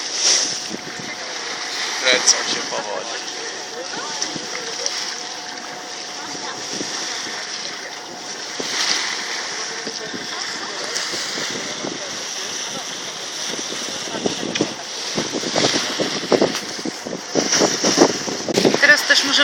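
Tour boat sailing on the Baltic Sea off Ustronie Morskie, with steady wind rush and splashing waves throughout, people talking over the continuous noise on deck.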